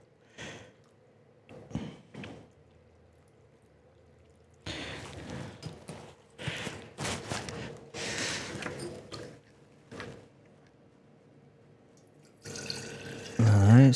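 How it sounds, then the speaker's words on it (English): Water pours in intermittent bursts to fill a container for plant transplanting, with splashy gushes broken by pauses and drips, close by, and a louder pour at the end. "we're just filling up a little bit more of this water here"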